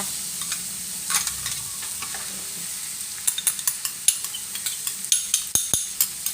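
Sliced onion and carrot stir-fried in a hot pan with chili and garlic, a steady close sizzle under repeated sharp scrapes and taps of a spatula or ladle that quicken toward the end, with no talking.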